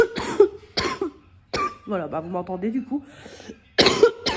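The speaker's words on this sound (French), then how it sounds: "j'ai une toux qui commence à être un peu grasse" A wet, chesty cough from a sick woman bursts out in sharp fits between short stretches of nearby speech, with a throaty, rattling quality.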